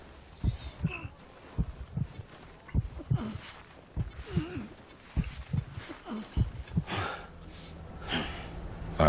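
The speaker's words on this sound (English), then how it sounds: "Sam's breath gets louder when you start breathing again" Sam breathes heavily in Death Stranding after holding his breath, a run of loud gasping breaths and snorts in an irregular rhythm, close up, with soft thuds in between.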